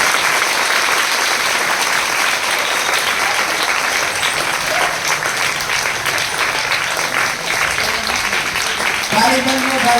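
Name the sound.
loud applause at school flag ceremony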